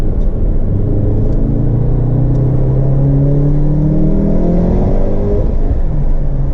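A VW Golf 7R with a 2-litre turbo engine pulls hard from inside the cabin at night, a loud steady rumble with engine pitch sweeping upward through the gears.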